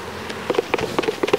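Honey bees buzzing on a hive frame during a mite check, sounding as a steady low drone with short rising, passing buzzes of single bees close by, no talk over it.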